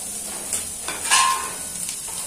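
Onions sizzle in a pan while tandoori paneer is being made, a steady frying hiss with a few soft scraping and stirring touches over about two seconds and no talking.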